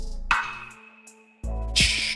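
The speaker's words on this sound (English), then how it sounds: "My snare sounds like this, but it's also layered with a click thing." A programmed snare layered with a woody click, sounding as a sharp crack that rings briefly, then hitting again with a brighter burst over a sustained bass tone in a short beat excerpt.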